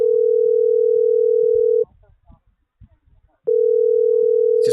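A steady ringback tone on a phone line, one long tone, a pause with faint background noise, then the tone again, clear and close.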